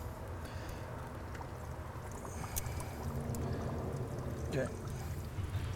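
Diesel fuel trickles out of the fuel system of a 1999 Dodge one-ton truck while an AirDog Raptor 150 lift pump is being installed. The pouring runs steady at close range under a noisy background, with someone speaking briefly over it.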